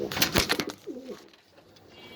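Afsan grizzle beauty pigeons, a male and female pair kept at a farm, give a short, soft coo with a wavering tone after some louder rustling and knocks, close by and fairly quiet.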